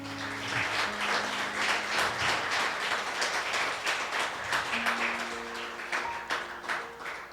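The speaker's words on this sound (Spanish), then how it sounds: "Dale un fuerte aplauso a su Dios" Congregation at a church sermon clapping loudly and steadily throughout, with sustained tones from instruments or voices running underneath.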